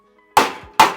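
A hammer strikes a hydroponic growpipe part twice in quick succession, two sharp, close knocks each fading with a brief ring in an otherwise quiet room.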